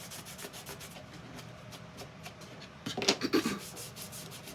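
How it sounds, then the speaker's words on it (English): Rubbing strokes of wax paste being buffed off a decorated piece, a steady soft scuffing that swells into louder, harder rubs near the end, close up with no talk. "So I'm buffing it off."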